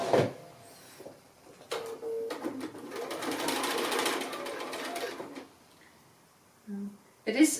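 A sewing machine stitches quilt block seams in short runs, its rapid mechanical whir starting and stopping, with brief pauses and a couple of short bursts at the end, close by and moderately loud.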